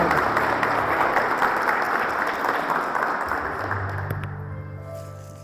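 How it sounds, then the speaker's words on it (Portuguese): A congregation at a men's church retreat applauds steadily and densely for several seconds, the clapping fading toward the end as a low tone emerges. "Aplauda a palavra do Senhor"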